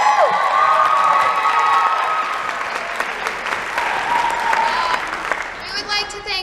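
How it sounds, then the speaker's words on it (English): A school theatre audience after a performance of The Importance of Being Earnest bursts into loud applause with cheering and high-pitched shouts and whoops, sustained for several seconds before tapering, with voices calling out over the clapping. "a huge round of applause for her"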